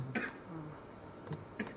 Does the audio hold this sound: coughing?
yes